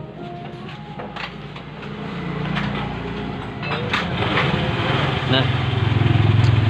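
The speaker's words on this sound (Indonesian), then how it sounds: "kita nyalain dulu motornya supaya teman-teman supaya bisa melihat kondisinya ya" An older carbureted Honda Vario scooter engine starts and runs with a steady low putter that grows louder and rougher toward the end, while a person speaks over it.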